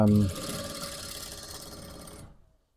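A sewing machine topstitches the side seams of a sleeveless sweatshirt jacket, running in a steady fast whir for about two seconds before stopping abruptly, close by.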